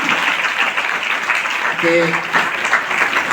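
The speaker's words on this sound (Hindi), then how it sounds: "तालियां" An audience at a training event gives enthusiastic applause, a loud, continuous wash of clapping with a brief word spoken over it partway through.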